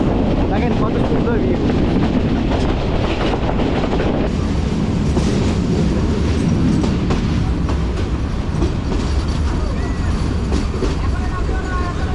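A passenger train running from Rangpur to Gaibandha, heard from inside as a steady loud rumble with rattling carriage noise and clatter throughout, with some voices in the background.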